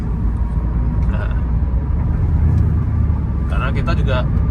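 Steady, loud road rumble and engine drone fill the cabin of a Toyota Avanza 1.5 driven at an easy pace, with voices talking over it.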